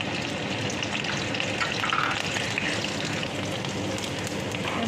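Onion going into hot oil in a wok, a steady close crackling sizzle of frying that holds evenly throughout with no talk.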